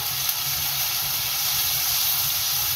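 Golden-browned onion with ginger garlic paste sautés in a pan, producing a loud, continuous steamy hiss and sizzle, close and steady throughout.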